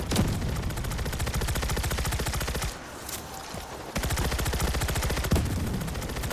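Rapid gunfire from the World War Z: Aftermath game in horde mode on the Korea map rattles loud and continuous with dense repeated shots, dipping briefly in the middle before resuming.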